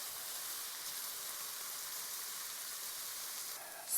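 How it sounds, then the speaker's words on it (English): Onions sautéing in a pan over a low flame give off a steady, even hiss and sizzle, soft and continuous throughout with no talk. "We'll saute it for maybe 2 more minutes and on low flame."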